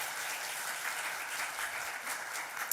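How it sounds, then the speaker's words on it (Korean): Applause from a congregation at a Friday night worship service, a soft, even patter of many clapping hands heard from some distance, steady throughout. "우리 예배를 받으신 하나님께 우리 영광의 박수 올려드리겠습니다"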